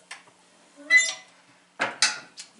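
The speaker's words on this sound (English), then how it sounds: "I'm just going to take a moment and throw a little chunk of wood in there" A chunk of elm wood goes into a wood stove with a few sharp clunks and knocks of wood against metal, spaced out and moderately close, with a quiet gap between them.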